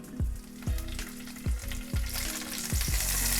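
Mustard seeds and curry leaves frying in hot oil in a pan, a steady sizzle punctuated by repeated sharp pops and stirring clatters, close and moderately loud with no talking.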